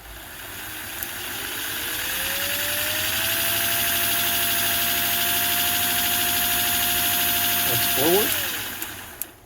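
A 1946/47 American Flyer #322 Hudson toy locomotive motor, freshly cleaned and lubricated, runs with a steady whirring hum that rises in pitch and holds, then briefly shifts near the end as direction changes, with a short spoken remark.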